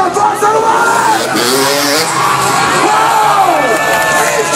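A loud crowd at a freestyle motocross show cheers and yells continuously, close and full, with an announcer's excited voice riding over the roar.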